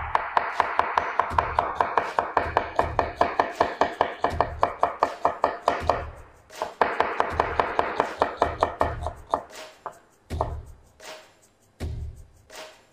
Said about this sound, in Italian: cominciamo a fare una julienne molto sottile, cercando di andare a tempo